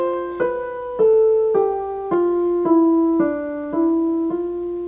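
Lydian-mode melody on a keyboard: roughly eight steady single notes stepping mostly downward, each ringing into the next, played up close and alone.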